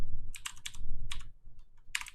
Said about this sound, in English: I was typing it down on the spreadsheet so we know what we're doing